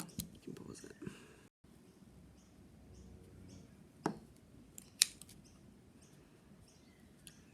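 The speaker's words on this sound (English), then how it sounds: "Trying to wiggle the scissors down into between the 2 bits of cardboard." Scissors snipping and wiggling through a very thick yarn pom-pom between two pieces of cardboard: soft, faint crunching and scraping with a few sharper clicks, close to the microphone, under quiet breathy talk.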